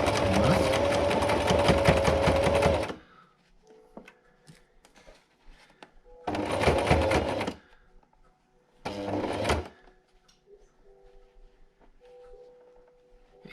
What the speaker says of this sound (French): on va coudre le bord du masque